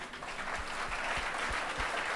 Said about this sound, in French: Et je voudrais que vous-même vous applaudissiez maintenant.